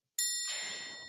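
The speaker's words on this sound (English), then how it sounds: "Ding dong." A single bright electronic ding-dong chime rings out alone, with a sharp start and a long ringing decay.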